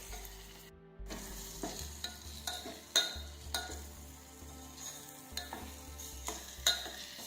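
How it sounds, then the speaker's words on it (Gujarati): Ginger sautés in a pan for Schezwan chutney, a low sizzle under repeated scraping stirs that come in a loose rhythm, close and fairly quiet, with no talking. "હવે આપણે આદુ નાખી દઈશું. આ રીતે આપણે સાતળી લઈશું."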